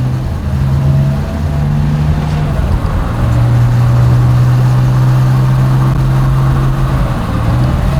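A Porsche 911 SC Targa Turbo-Look engine drones steadily while driving, a loud, even mid-pitched hum with a shifting low tone as the revs change, heard from inside the car with no talk.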